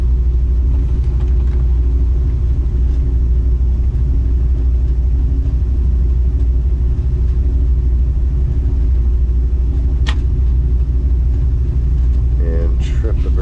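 Kitchen exhaust fans run upstairs as a loud, steady low rumble and drone that stays constant, with a brief sharp click near the end and a voice speaking near the close.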